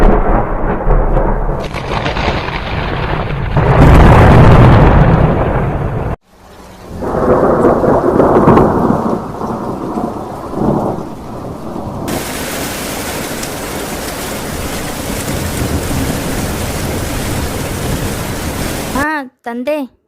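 A thunderstorm with heavy rain rumbles and hisses for most of the clip, loud and broadband, dropping out briefly mid-way before a steady downpour returns; a short tonal blip closes it.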